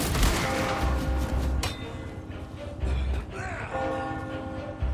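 Gunfire and heavy booms around a church bell tower in the Resident Evil 4 video game, with repeated shots and bursts in a dense, noisy battle mix and a ringing bell tone.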